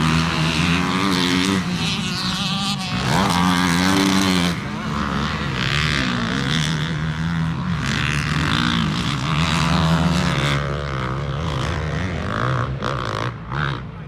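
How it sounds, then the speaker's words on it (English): A 2020.5 KTM 450SXF Factory Edition dirt bike roars continuously while ridden, its engine note rising and falling with throttle changes, loud and close throughout. "here is me riding that KTM I was talking about"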